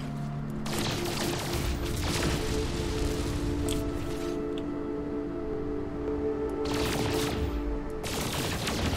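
Ship cannons firing in the video game No Man's Sky, with dense, rapid bursts of blasts over a steady engine-like hum, loud and continuous with brief pauses between volleys.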